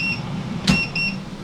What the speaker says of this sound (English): that beeping noise is the thermometer